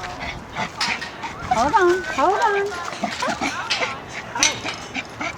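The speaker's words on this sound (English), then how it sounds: "Well, they have little dogs in there." Little dogs whimper, yip and bark up close in short bursts, mixed with people talking over them.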